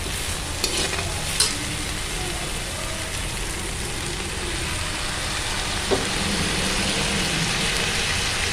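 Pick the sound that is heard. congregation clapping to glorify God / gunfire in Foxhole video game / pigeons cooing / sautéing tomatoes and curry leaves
sautéing tomatoes and curry leaves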